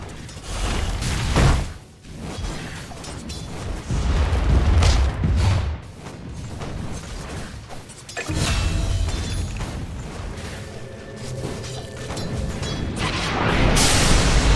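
Dota 2 battle sounds as a tower comes under attack: repeated loud booming impacts and clanking mechanical hits, dense and continuous with bursts of spell effects throughout.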